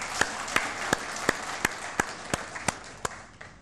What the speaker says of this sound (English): give them all a round of applause for their wonderful effort